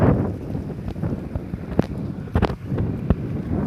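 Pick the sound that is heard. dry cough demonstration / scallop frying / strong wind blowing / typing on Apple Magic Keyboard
strong wind blowing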